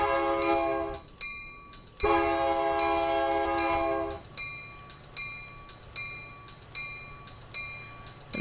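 An eastbound train on the Chicago-Aurora line approaching in Train Simulator 2016, sounding two long, loud horn blasts followed by a string of short repeated horn toots over a steady rumble.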